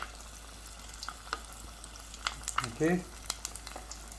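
Flour-dredged chicken pieces for homemade fried chicken go into hot oil, giving a faint, steady sizzle with soft crackles and a brief bubbling burst, while a voice speaks one short word.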